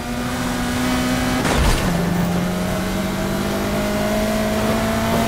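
Cars racing in Need for Speed Heat, with a loud, steady engine drone holding a sustained pitch, then a sharp gear-shift drop about a third of the way in, and the engine note continuing evenly afterward. No talk.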